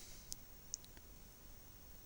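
Two sharp, close computer mouse clicks come about half a second apart while Shift is held to select objects in Blender. They sit over a faint steady background hiss.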